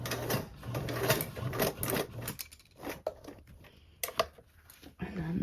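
A sewing machine basts through thick layers of a Belmont Luxe bag, short bursts of rapid mechanical stitching separated by pauses, close and clear.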